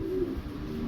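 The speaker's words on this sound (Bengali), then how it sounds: "এখানে আছে একটা বার্মিংহাম রোলারের নর কবুতর" A male Birmingham roller pigeon gives a soft, low coo, one short sustained call close by against faint background noise.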